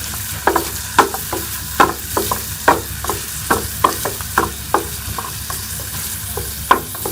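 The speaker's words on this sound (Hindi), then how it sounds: "इसके अंदर हम ये प्याज डाल देंगे, चॉप किया हुआ प्याज। प्याज को जो है वो हम थोड़ा सॉफ्ट कर लेंगे।" Chopped onion softening in hot ghee in a pan, a steady sizzle broken by repeated scraping stirs of a spoon at an uneven rhythm, close and clear with no talking.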